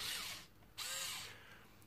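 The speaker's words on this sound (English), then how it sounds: "So I'm going to use this little drill here I got with the string on it and I'm just going to unwind this thing." A small handheld drill with a string winder spins a guitar tuning peg to unwind a string, two whirring bursts separated by a brief pause, close and fairly loud with no talking.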